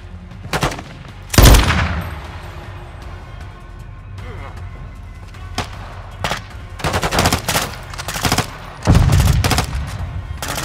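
Machine gun fire in Call of Duty Modern Warfare II, loud close bursts and single shots scattered across the scene with rattling fusillades between pauses, under occasional talk.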